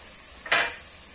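A single quick scrape of a utensil stirs chopped onion, tomato and green pepper in a pan for beef stroganoff. The faint clatter is brief and isolated against quiet room tone.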